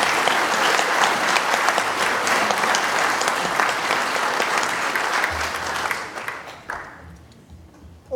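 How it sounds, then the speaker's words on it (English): An outdoor Memorial Day ceremony crowd gives a round of applause for children who placed roses, steady clapping that thins out and fades away near the end. "Round of applause, please."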